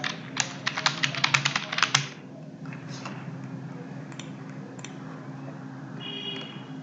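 Rapid keystrokes on a computer keyboard as a project name is entered, a dense burst of clicks for about two seconds, then near-silence with a few scattered taps and faint room hum.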